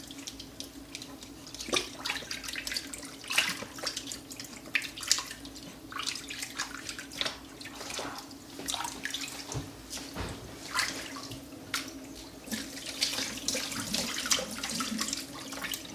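Tap water runs steadily into a sink while a baby is washed, a soft, continuous splashing with irregular drips and slaps of water, faint and close, and no one speaks.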